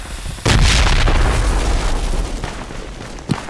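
A grenade detonates in the Project Reality military shooter, a sudden loud boom followed by a rumbling decay. A sharp smaller report cracks near the end.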